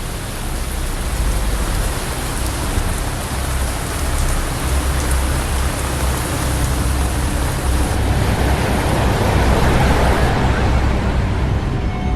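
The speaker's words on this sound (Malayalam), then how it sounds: "ആഹാ നല്ല മഴ" Heavy rain pours down steadily in a dense, constant hiss of drops striking surfaces, loud and unbroken throughout.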